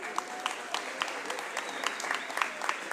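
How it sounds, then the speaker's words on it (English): Scattered applause from an audience at a city cabinet and community meeting held in a Boys and Girls Club, with uneven individual claps and voices mixed in. "Give yourselves a round of applause."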